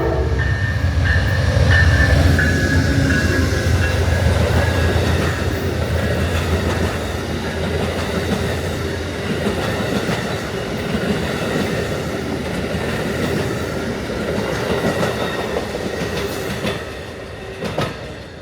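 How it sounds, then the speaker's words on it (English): A southbound Amtrak Northeast Regional passenger train led by a P42DC diesel locomotive passes through Ashland, Virginia: a loud, sustained rumble and roar with wheel clatter that eases slightly toward the end. "the southbound Amtrak Northeast Regional from Boston, Massachusetts to Norfolk, Virginia, passes through P42 DC, number 182"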